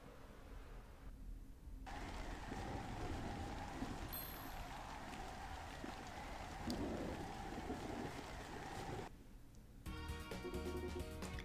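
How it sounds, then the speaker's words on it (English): Heavy rain pours steadily in a Harvest Moon game storm, a dense continuous hiss with low rumbling, breaking off briefly near the end before a burst of bright sound. "A huge storm is raging outside."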